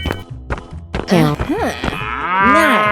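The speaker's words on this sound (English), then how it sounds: "Cow." A cartoon cow in a 3D animal slide video game gives loud, close moos, a few drawn-out bellows with swooping pitch, heard alone without speech.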